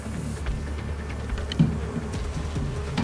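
Honeybees swarm densely as they are shaken off honey-filled comb frames during a honey harvest, a loud, steady, close buzzing drone with no talk over it.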